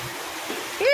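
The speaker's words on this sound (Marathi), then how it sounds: "कसा पाऊस राहिला मस्त भारी वाटत आहे मस्त पावसाचा बघ पाऊस" Steady rushing and splashing of falling rain and pooling water fills the background, and a voice briefly cuts in at the very end.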